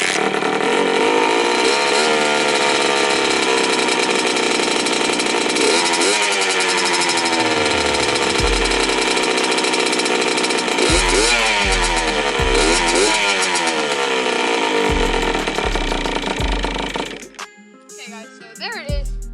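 A Kawasaki KX60 dirt bike with a dirty carburetor runs loud and close, its two-stroke engine blipping through repeated rising and falling revs before cutting off near the end.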